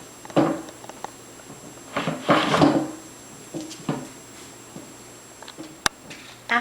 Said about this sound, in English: put the long vertical curved piece onto the dowels on the lower box. That will just slide into place